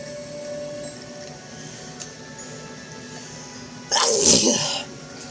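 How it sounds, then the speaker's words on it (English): After a quiet stretch of faint background hum, one loud, close sneeze from a person bursts out near the end. "I'm sneezing unfucking controllably, dude."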